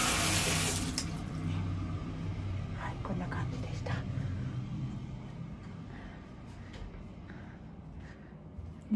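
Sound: hotel room shower running with strong water pressure

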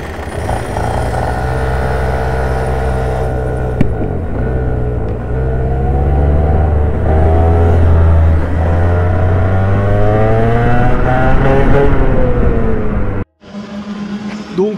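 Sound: racing kart engines during a race

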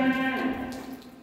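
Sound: cow mooing on a dairy cattle farm

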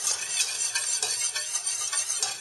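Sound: stirring a roux of fat and flour

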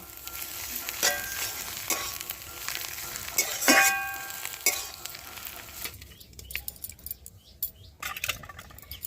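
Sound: stirring cauliflower filling with chopped coriander in a pan

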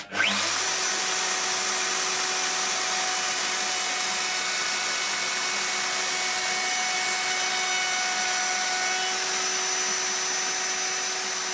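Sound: router with flush trim bit cutting Ikea shelf handholds

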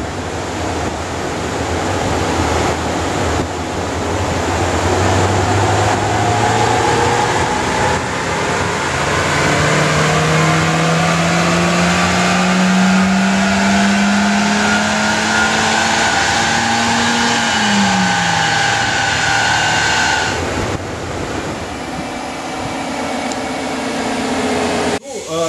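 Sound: car engine revving on dyno with catalytic converter

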